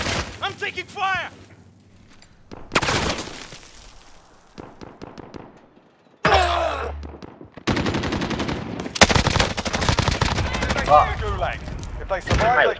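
Gunfire in the video game Call of Duty: Modern Warfare, with bursts of automatic fire and scattered shots arriving in loud clusters amid game effects and brief voices, some stretches quieter between the volleys.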